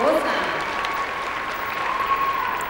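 Spectators at the 2005 Berlin Masters rhythmic gymnastics competition applaud Irina Chachina's rope routine, a dense, steady wash of clapping from a large arena crowd, with a faint sustained tone running beneath it throughout.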